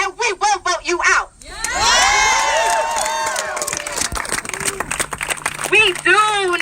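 Cheering crowd at a climate rally, starting with a few short shouts before a sustained roar of voices and clapping swells up loud and close, then thins into scattered whoops and chatter.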